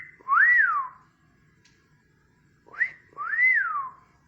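A pet cockatiel whistles two clear rising-and-falling notes, separated by a short pause with a brief chirp, close and alone in a quiet room.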